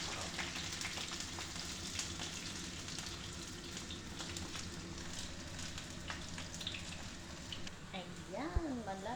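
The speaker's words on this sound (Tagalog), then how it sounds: "Prito natin ang ating talong." Eggplant (talong) frying in hot oil gives a steady dense sizzle and crackle throughout, with occasional louder pops and a brief rising tone near the end.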